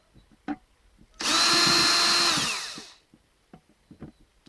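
A power drill bores into a cheap, thin plastic bucket in one loud, close burst of whining motor and grinding about two seconds long, with faint handling clicks before and after.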